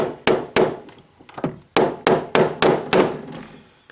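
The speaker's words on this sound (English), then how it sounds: "So I'm gonna hit the back with a hammer." A hammer striking the back of a metal workpiece held in a lathe during a steam engine valve body and cylinder head build, about ten sharp, loud knocks in an uneven rhythm, close and alone.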